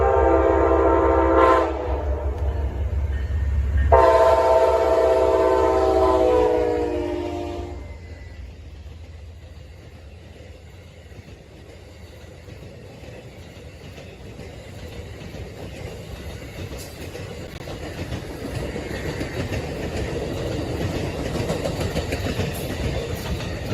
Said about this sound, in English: Next up we have Amtrak 100 leading